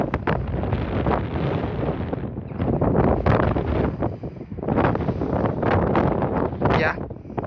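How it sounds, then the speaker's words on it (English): Strong wind buffeting the microphone in a steady roaring rumble during flooding in Rainbow Siddal, gusting louder and softer, with a voice faintly audible under the noise. "it is really windy"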